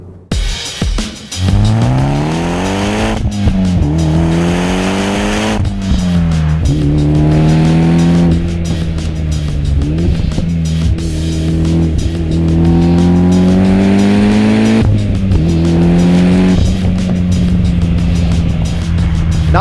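A tuned 2013 Mitsubishi EVO X engine climbs loudly through repeated hard accelerations, the pitch rising and dropping with each gear change, close and alone with no talk.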